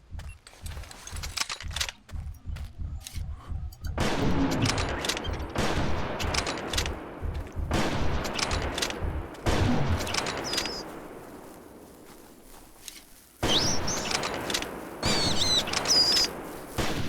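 Hunting rifle shots in the dinosaur game Prehistoric Hunt, several loud sharp cracks with rolling echoes, spaced by quieter gaps, and a quick ticking pattern at the start.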